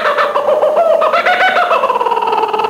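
A chicken or rooster sound effect in an audio story: loud, close clucking and warbling fowl calls rising and falling without pause, with no speech.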